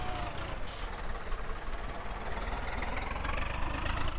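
A Swaraj 855 tractor engine in Farming Simulator 19 drones loudly and steadily as it shifts gears, with a short hissing burst near the start over the constant rumble.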